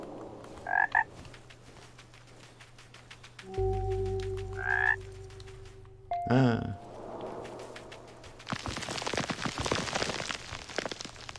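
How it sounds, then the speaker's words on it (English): Frog croaking in a video game, a few short croaks spread over the span with quiet gaps, under soft rain-like ambience and a low steady hum. "Oh, fucking frog, mate."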